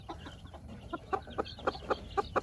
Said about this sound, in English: here's the hen that's going to be fostering out these pheasant eggs. As you can see, she's a game hen. She's very mean.